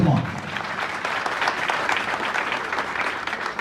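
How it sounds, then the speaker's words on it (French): An outdoor audience at a tree-day ceremony claps for a lieutenant, a full burst of applause that rises quickly and stays thick and steady for a few seconds. "je veux que vous l'applaudissez fortement"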